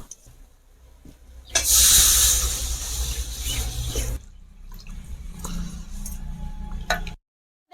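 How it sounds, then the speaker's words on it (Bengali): Water poured into sizzling mustard paste masala in a pan while cooking a river bhola fish jhal; a loud burst of hissing and splashing erupts, then settles into a steady, quieter bubbling sizzle. "এবার এর মধ্যে আমি জল দিয়ে দেবো"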